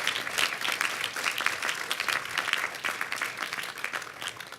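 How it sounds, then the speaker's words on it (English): A large audience at a civic State of the City event in Sunnyvale claps, producing dense, steady applause that stays loud and even for the whole stretch. "give them a big round of applause"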